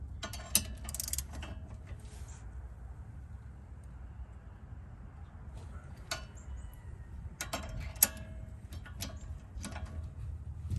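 A ratchet tightens the bolts on the rear hub bearing of a 2014 Kia Soul. Quiet bursts of ratcheting clicks come in short runs with pauses between them, in a mostly still workshop.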